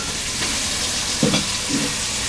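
Goat brain, set aside for a goat head curry, sizzles in hot oil with a steady close crackle and a brief louder burst of stirring midway.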